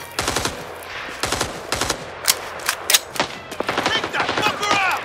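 Automatic weapons fire in the Vietnam War shooter Rising Storm 2: Vietnam, with repeated rapid bursts and single loud shots, close and loud, overlapping one another.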